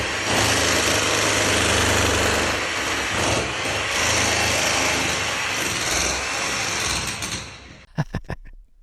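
Loud, continuous power drilling from construction work in a neighboring apartment, a harsh grinding drone that runs steadily for about seven seconds before cutting out, followed by a few sharp knocks.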